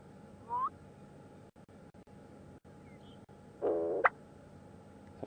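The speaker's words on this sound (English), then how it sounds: "They're quite a large bustard, and the males do that fantastic call" A male bustard's call played back from a bird app during an evening safari drive at Djuma and Arathusa, heard as a brief low call, then a louder, longer booming phrase with a sharp rising end, over faint background hiss.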